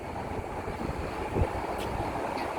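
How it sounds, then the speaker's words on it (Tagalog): Wind blows steadily outdoors near a train in Hong Kong, a constant rushing noise against the microphone with one brief low gust buffeting it midway. "Mahangin ngayon."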